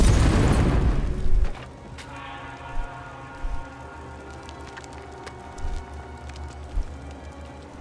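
Alchemist's fire bursting in Baldur's Gate 3, a loud, close explosion in the first second, followed by crackling flames and scattered soft pops.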